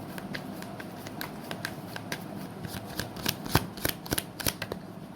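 Tarot cards being shuffled by hand, a steady run of crisp riffling clicks and flutters, close and fairly loud, building to denser snaps near the end.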